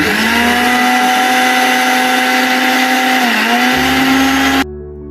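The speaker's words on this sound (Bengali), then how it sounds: "এই যে পোস্তটাকে ঢালছি দেখো মিক্সিতে" A kitchen mixer grinder grinds poppy seeds, a loud, close motor whine that holds steady, dips briefly in pitch, then cuts off near the end, leaving a lower hum.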